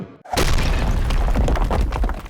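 Blast shooting off the top of a structure in an audio drama, a loud sudden boom after brief near-silence, followed by a rumbling, crackling tail that persists for about two seconds.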